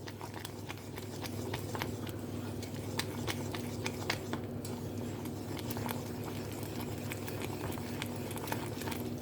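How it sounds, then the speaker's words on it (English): Caramel for millionaire's shortbread bubbles gently in a pan while a spoon stirs it, giving a soft continuous low bubbling with frequent small ticks and scrapes, quiet and close, with no talking. "you need to keep stirring and stirring and stirring and letting it boil just gently"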